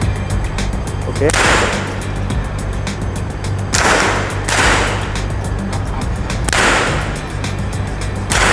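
M4 rifle fired at an outdoor shooting range in Pattaya, Thailand: four loud, sharp single shots spaced a few seconds apart over steady background hum and murmur.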